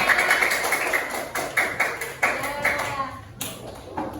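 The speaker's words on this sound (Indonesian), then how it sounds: "Tepuk tangan dong ke kelompoknya." Children applaud a classroom group, a busy patter of claps with sharp accents, fading toward the end as a voice speaks briefly.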